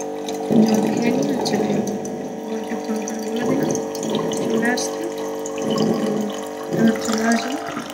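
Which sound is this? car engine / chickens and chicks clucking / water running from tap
water running from tap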